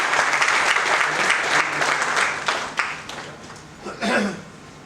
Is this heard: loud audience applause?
yes